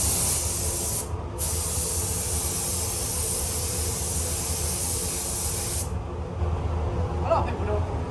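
Spray gun laying a black primer coat onto a car panel during a Mitsubishi Colt respray, a steady close hiss that runs almost continuously with one brief break, then stops near the end.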